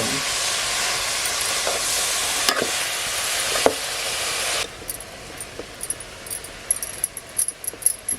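Leafy garden greens sautéed in a pan over a rural wood-fired stove: a steady loud hiss of steam for several seconds, then a quieter stretch of stirring with scattered small scrapes and clinks, no voices.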